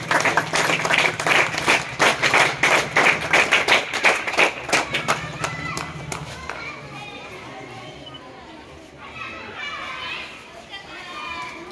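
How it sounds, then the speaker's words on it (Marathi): A crowd at a felicitation event for wrestling winners breaks into loud, rhythmic unison clapping for several seconds, then fades into general hall chatter and children's voices. "प्रवीणसाठी एकदा टाळ्या झाल्या पाहिजेत।"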